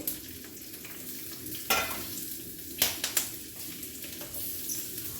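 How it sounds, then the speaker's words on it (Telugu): Brinjal sizzles steadily in hot oil in a pan, with a few sharper stirring scrapes and clinks breaking through the continuous frying hiss. "ఇట్లా వేయించుకోవాలి"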